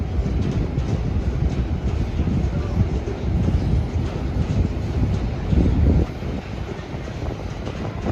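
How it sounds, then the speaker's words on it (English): A Long Island Rail Road train at the busy Jamaica station hub produces a heavy, continuous low rumble and rolling roar close by, steady throughout, with wind buffeting the microphone. "545 train to Ronkonkoma, now arrive at track 7."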